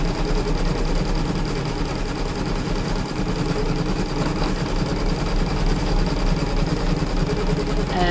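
An embroidery sewing machine stitches a 3mm satin stitch onto a rope bowl, a loud and steady close-up whir of rapid needle strokes that runs without a break.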